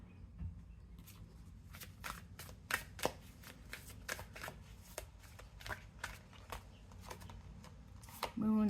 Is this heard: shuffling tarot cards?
yes